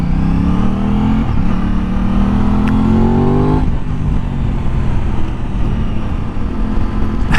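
A sport motorcycle engine, either an Aprilia RS 660 or a Triumph Street Triple RS, revving hard in first gear up toward the limiter. Loud, continuous and close, with the pitch climbing and then dropping back.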